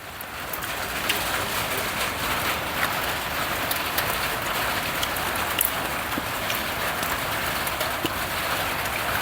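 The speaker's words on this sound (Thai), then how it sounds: "ทานข้าวท่ามกลางสายฝน" Steady rain falls outdoors during a meal in the open air, a dense, loud, even hiss of drops on surfaces throughout, with occasional sharper drip ticks and faint bird calls in the background.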